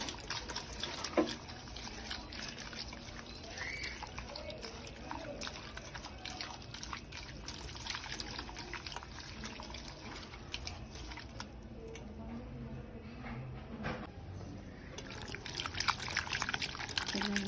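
Ingredients are being washed by hand with curd, salt, turmeric and water, producing soft pouring, trickling and dripping sounds with light splashes, fairly quiet and close, continuing throughout.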